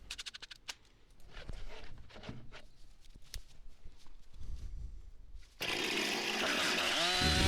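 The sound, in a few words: chainsaw trimming plywood edges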